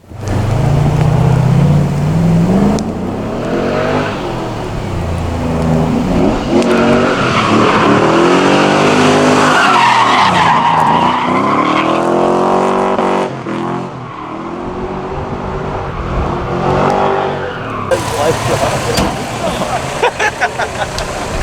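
An LS1 V8-swapped Nissan 240SX drives and revs hard, its loud engine note rising and falling through gear changes, with people talking over it.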